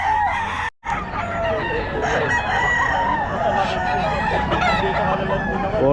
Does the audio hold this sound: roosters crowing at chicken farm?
yes